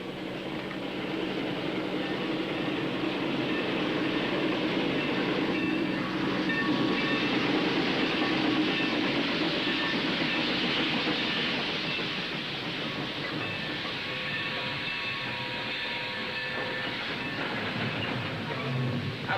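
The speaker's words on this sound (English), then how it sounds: "And John's on the train." A train runs steadily on the rails with a continuous rumbling roar and faint rhythmic clatter, even in loudness throughout and with no voices.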